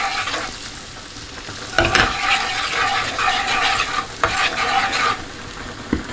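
A pan of seasoned pasta sauce with black pepper and salt is stirred over sizzling heat, a steady fry broken by a few louder scrapes and clacks of the utensil against the pan, with no talking.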